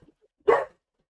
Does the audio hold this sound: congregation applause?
no